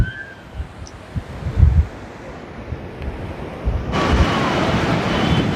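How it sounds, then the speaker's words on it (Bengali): Strong sea waves at Puri beach, low rumbling surf under buffeting wind noise that swells into a louder, broader wash of water near the end. "জলের স্রোত কিন্তু আজ প্রচন্ড প্রচন্ড স্রোত"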